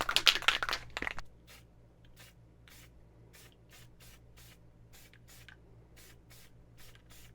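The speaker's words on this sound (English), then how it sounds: "Let's fire some primer on this." Primer is sprayed from an aerosol can while parts for a C3 Chevy 5.7L 350 are being painted. A loud hissing burst lasts about a second, followed by a series of short, quieter spray puffs at regular intervals over a low hum.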